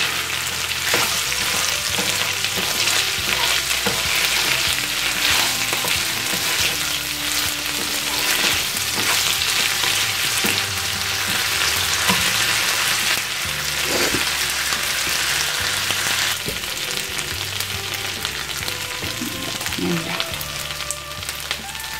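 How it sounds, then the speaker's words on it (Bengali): Dried chepa shutki fish fries in a pan with a continuous, loud, crackling sizzle, broken by occasional stirring scrapes and clinks. "আমি এর থেকে আর বেশি ভাজবো না।"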